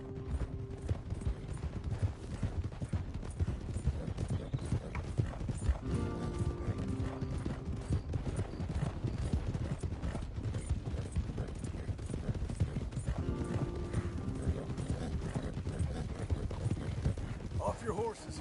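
Several horses gallop in steady, rhythmic clip-clop hoofbeats through a Red Dead Redemption 2 game scene, with occasional whinnies and voices talking over the continuous hoof rhythm.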